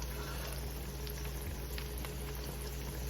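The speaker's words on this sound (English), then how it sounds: "Put all of them in here and let them just fry a bit." Sausages and potatoes frying in a pot with green beans and ham hocks, a steady close bubbling crackle like light rain with a constant low hum underneath.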